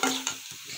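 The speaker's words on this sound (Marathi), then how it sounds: "छान परतून घेऊ." A brief stir and sizzle of gavati eggplant bharta being sautéed with chilli and salt, two quick scraping strokes over a soft hiss, close and short.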